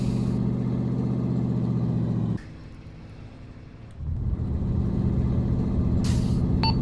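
A military truck in Arma 3 rumbles loudly with a heavy low engine drone, drops off briefly as if shifting or easing off, then roars back up, with a short hiss near the end.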